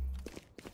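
Quick footsteps of a sprinting character in the video game Valorant, several light rapid steps close by, fairly faint.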